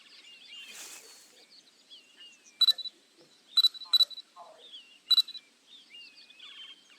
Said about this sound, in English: Why is it beeping at me?